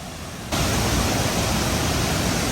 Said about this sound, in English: now we are at the base of the first part of Cane Creek Falls with the bridge over it